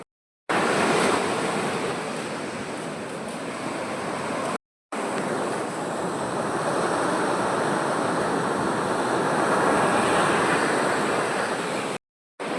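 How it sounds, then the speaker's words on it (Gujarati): Sea waves break on a sandy shore in a continuous broad wash of surf, loud and steady with gentle swells, broken by two brief dropouts into silence. "અહીંયા રેતી છે ને મિત્રો જુઓ કેટલા મોજા વળે છે"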